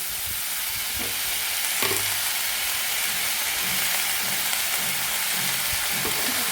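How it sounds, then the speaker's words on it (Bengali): Vegetables, including potato and cauliflower, frying in a pan with salt and turmeric for a winter khichuri, giving a continuous soft sizzle with a few faint clinks of stirring. "লবণ দিলে সবজি জল বলে একটু তাড়াতাড়ি ভাজা হবে"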